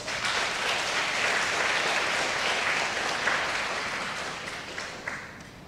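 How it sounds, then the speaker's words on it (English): A full room at a Singapore arts festival's welcome addresses breaks into steady, dense applause for a speaker, sustained and fairly loud before tapering off near the end. "Please give him a warm round of applause."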